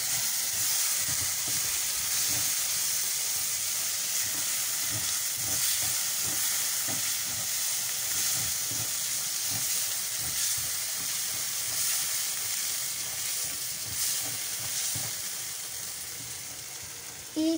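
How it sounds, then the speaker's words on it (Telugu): Masala for paneer sabzi fries in a pan with a steady, close sizzle and crackle that continues unbroken and gradually eases toward the end, with no voices. "ఇప్పుడు కొంచెం వేగుతుంది"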